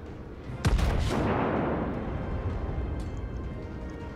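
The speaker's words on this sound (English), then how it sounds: "Oh, someone's shooting me." A heavy naval gun blast booms in World of Warships, a sharp close report followed by a long rumbling decay and lingering battle noise.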